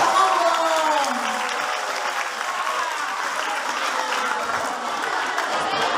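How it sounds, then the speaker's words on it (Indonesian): Audience applause at a talk show in an Islamic boarding school, loud, dense clapping from a crowd that holds steady throughout, with a voice briefly over the start. "Tepuk tangan dong."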